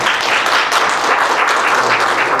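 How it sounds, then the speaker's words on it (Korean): A church group breaks into loud, dense applause at a gathering after a shared meal. The clapping is close and continuous and runs the whole time, with no talk. "박수로 한번."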